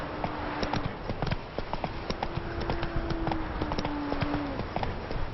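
Hooves of Roach, the horse in The Witcher 3, clip-clop in a steady walking rhythm over a continuous outdoor ambience, with a faint sustained tone drifting across the middle of the clip.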